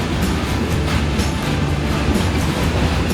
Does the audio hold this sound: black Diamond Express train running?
yes